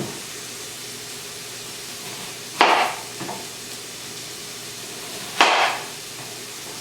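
A knife slicing the ends and peel off an onion for a salmon and bacon stir fry, two separate crisp chops a few seconds apart, each followed by a lighter tap, against a quiet kitchen background.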